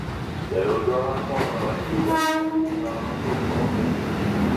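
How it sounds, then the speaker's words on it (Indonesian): A 12-car commuter train bound for Bogor rumbling past at a station: steady loud rolling noise with a brief blast of horn-like tones in the middle and faint voices underneath. "Dia keretanya tujuan Bogor, 12 rangkaian"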